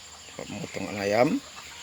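Chickens cluck at a chicken slaughtering spot, a few rising, harmonic calls close by in the middle of the moment, with a faint background hum.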